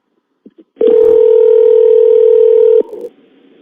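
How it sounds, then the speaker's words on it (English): A telephone line gives a few short clicks and beeps, then a steady, loud dial tone holds for about two seconds before cutting off into a faint hiss. "let's play a phone call"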